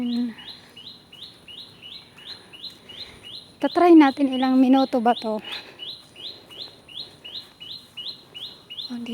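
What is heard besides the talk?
birds chirping outdoors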